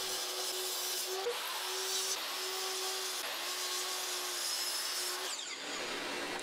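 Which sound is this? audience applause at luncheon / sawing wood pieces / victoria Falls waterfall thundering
sawing wood pieces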